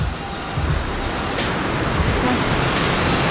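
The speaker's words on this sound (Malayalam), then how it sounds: "ഒരു ഹോളിൻ്റെ ഉള്ളിൽ കൂടെ കേട്ടോ വെള്ളം ചാടുന്നത്" Water gushing through a hole in a rock at a scenic viewpoint, a loud, steady broadband rush like a small waterfall, with no clear talk and little change from start to end.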